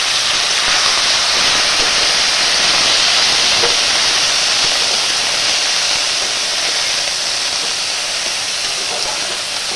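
Brinjal pieces fry in hot oil for a neem begun dish, giving a loud, steady, close sizzle and hiss that runs unbroken for about ten seconds with no talking.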